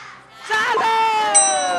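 A quiz-game bell rings out clear and loud during a children's game show, its bright tone ringing on for more than a second with a short extra chime near the end.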